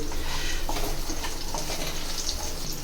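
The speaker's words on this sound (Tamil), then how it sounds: "இந்த மாங்காய்லாம் நல்லா வதங்கிச்சு." Pieces of raw mango sauté in a hot pan with a light pinch of salt, giving a steady, moderately loud sizzle and crackle, with occasional faint stirring sounds.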